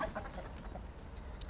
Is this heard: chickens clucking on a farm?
yes